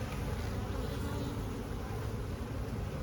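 Honeybees buzz at an open hive from a small queenless colony, a dense, continuous drone that holds steady throughout, close and alone without any talking.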